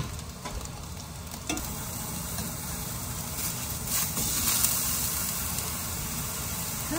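Zucchini slices for lasagna fry in a pan with a steady, loud sizzle and hiss that carries on throughout, broken by a few faint clinks and stirring sounds.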